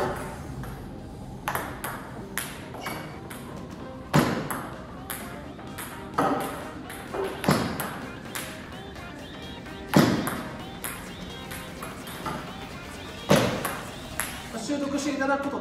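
During table tennis serve practice, a ball gives bright, sharp pings and taps at irregular intervals while someone talks steadily over them.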